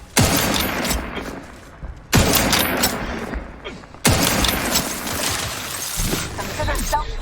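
Bursts of gunfire in combat in The Outer Worlds 2: three loud volleys of rapid shots with sharp onsets and ringing tails, separated by brief gaps, with a voice speaking faintly amid the shooting.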